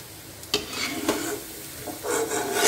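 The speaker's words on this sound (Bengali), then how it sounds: "এইভাবেই সবগুলো ভেজে নিলাম।" Semolina-coated chicken pakoras fry in hot oil with a steady, close sizzle, broken by a few sharp scrapes and clinks as the pieces are turned in the pan.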